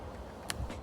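Crunch of biting into a tender collard green stalk: one sharp, bright crack midway, then a softer chewing crunch just after, close and fairly quiet over a low background hum.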